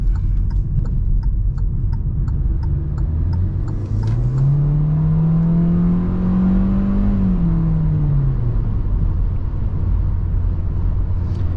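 A 2022 Hyundai Accent with a naturally aspirated 1.6-litre engine pulls hard in sport mode, its engine note rising in pitch through the revs and then falling away, heard steadily from the cabin over road noise.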